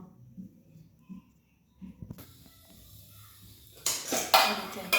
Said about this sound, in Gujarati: હવે બંધ કરી દઈશું કુકરનું ઢક્કણ.